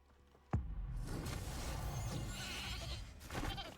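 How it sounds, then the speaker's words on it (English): An enemy transformed into a goat in Hogwarts Legacy gives a quiet bleat after a sharp opening thud, with the nasal call running for a few seconds over soft game ambience. "Oh, I turned it into a goat."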